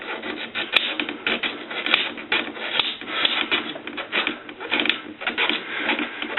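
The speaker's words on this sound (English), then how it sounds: "that's me just sliding or scraping the blade across the top of this inlay, and you see the abalone dust that's being produced there" A metal blade scraping across an abalone inlay, a steady close rasping scrape with repeated back-and-forth strokes, moderately loud and continuous with no talking.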